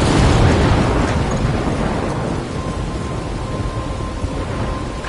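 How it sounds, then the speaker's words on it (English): A thunderstorm in the video game Life is Strange rumbles heavily: a loud, deep roll of thunder that gradually eases into a steady wash of rain and wind, with no voices. "I'm trapped in a storm?"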